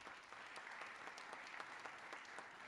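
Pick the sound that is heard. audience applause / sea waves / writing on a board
audience applause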